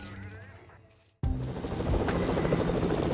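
A helicopter in the Fortnite video game roars loud and steady, beginning after a brief near-silent gap and holding a dense rotor and engine drone for the rest of the clip, with no talk.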